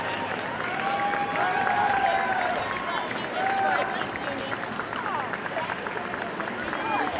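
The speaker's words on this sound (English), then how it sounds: "Fans, having a nice round of applause for all the teams in this tournament." Crowd at a basketball state championship tournament claps and cheers in a steady, dense wash of applause that holds for several seconds, with voices and whistles mixed through the noise.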